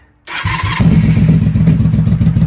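A 1994-2003 Honda Magna V45 V4 VF750C motorcycle with a gas leak fires up without choke after a brief starter whir, settling into a loud, close, steady idle burble.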